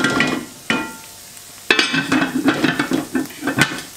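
Quails being stirred in a cooking pot, a spoon scraping and knocking against the pot in several strokes with a soft sizzle underneath, close and fairly loud, no talking.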